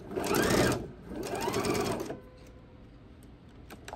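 A sewing machine stitches binding onto a quilt in two loud, steady runs, with a short pause between them, then stops and leaves quiet handling noises.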